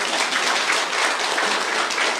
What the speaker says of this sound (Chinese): 来，掌声感谢一下啊！